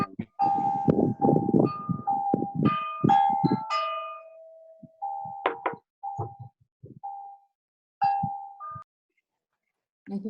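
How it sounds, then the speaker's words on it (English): Chimes ring outdoors in an empty downtown area, several clear tonal strikes, some overlapping and some spaced out with pauses between them, moderately loud against a quiet background. "I hear someone's chimes."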